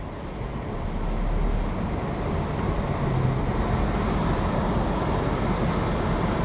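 A Smart 453 city car drives and turns around on a two-lane road, giving a steady, continuous engine and road rumble with no voices.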